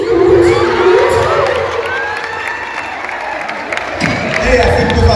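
An audience at a lively comedy show breaks into cheering and applause, loud crowd shouts and children's voices mixing with clapping, which swells again near the end.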